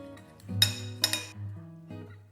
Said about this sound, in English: I'm going to give this a quick mix